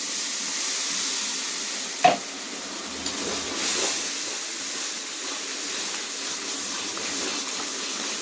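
Ginger-garlic masala sizzles in a pan with a little water added, giving a steady close hiss of frying and steam, with a few stirring scrapes and no talk.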